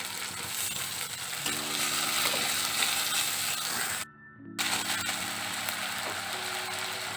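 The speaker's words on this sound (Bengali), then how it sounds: "একটু জল দিচ্ছি আদাটা যেন পুড়ে না যায়" Ginger paste sizzling in a pan after a splash of water, a steady bright hiss with a low mechanical hum underneath and a brief dropout midway.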